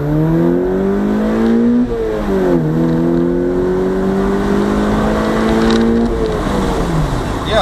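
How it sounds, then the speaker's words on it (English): Third-generation Mazda MX-5 engine revving hard under acceleration: a loud, rising engine note climbs, drops briefly at a gear change, then climbs again before easing off near the end. "even though the engine seems to rev even more"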